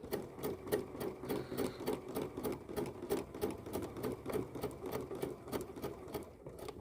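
Sewing machine running a little knot stitch, a steady fast mechanical clatter of needle strokes at an even rhythm, fairly faint and uninterrupted, with no voices.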